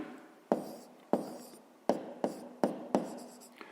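A pen writes a fifth-grade maths answer on paper, giving six sharp tapping strokes at irregular intervals, each followed by a brief scratchy scrape, close and fairly quiet with no voices.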